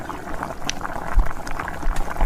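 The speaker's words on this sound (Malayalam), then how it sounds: "പിന്നെ നമ്മൾ മെയിൻ പോർഷൻ റൈസ് ആഡ് ചെയ്ത് കൊടുക്കാം" Rice goes into a pot of boiling water spiced with turmeric, salt and garam masala for Thalassery beef biryani, a loud close bubbling and rumbling roil with a brief splash.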